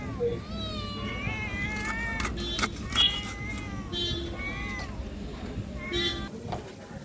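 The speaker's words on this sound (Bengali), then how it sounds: "বিল্লিগুলো খুব মনের আনন্দে খাচ্ছে" Several cats eating fish scraps while someone cuts fish nearby, with repeated meows close by over steady background noise and a person talking throughout.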